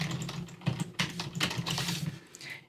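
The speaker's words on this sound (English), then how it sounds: "Now you simply need to type in your first and last name so we can give you proper credit" Close, quiet typing on a computer keyboard as a first and last name is entered, with quick irregular keystrokes in short bursts.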